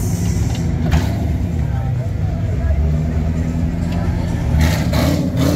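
A car revs and accelerates in a street scene where police threaten to impound cars, a steady engine roar holding under crowd noise and people talking, swelling slightly toward the end.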